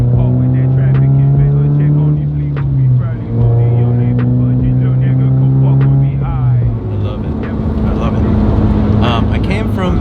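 A Toyota GR86 with a Hellfire aftermarket exhaust idles with a deep, loud drone that shifts pitch as revs change, the engine note rising and growing rougher toward the end.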